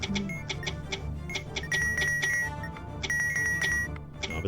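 Repeated electronic beeps and tones from a video game, short high pips with a couple of sustained bleeps over a low hum.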